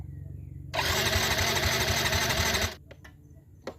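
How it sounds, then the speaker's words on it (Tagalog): A Yamaha Mio i125 scooter that has sat unused for five years cranks hard for about two seconds with a rapid buzzing whir and never catches, then falls quiet apart from a few small clicks. "ito pag try ko nga ay ayaw nang umandar"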